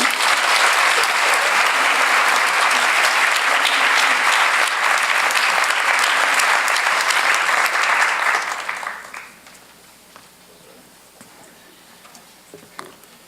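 An audience at a design talk event applauds its speakers with dense, loud clapping that holds steady for about eight seconds, then fades quickly, leaving a quiet room with a few scattered sounds.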